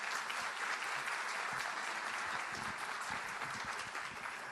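Audience applause for a school superintendent at a recruitment and hiring event: steady, dense clapping from a crowd, continuing evenly throughout.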